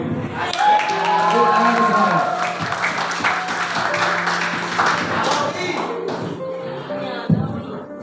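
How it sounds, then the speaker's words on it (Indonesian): Audience at a high school student council debate breaks into sustained clapping, a dense wash of applause with some crowd noise, while a voice speaks over it. "Berikan tepuk tangan yang meriah untuk pasangan nomor urut 1"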